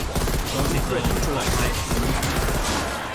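Rapid, dense gunfire in Black Ops Cold War Zombies, a sustained loud barrage of shots with someone talking over it throughout.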